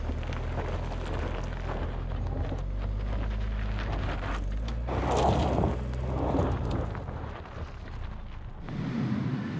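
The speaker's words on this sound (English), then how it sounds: "Sorry for the fan noise, but it's really hot in here." A cabin fan blows hard inside a 2022 Chevy Trailblazer during off-road driving, a loud steady rushing noise with low rumble and swelling gusts of broadband hiss, continuous throughout.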